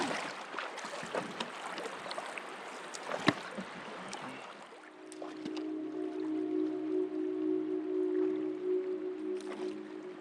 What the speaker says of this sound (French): Je suis sur une rivière inconnue.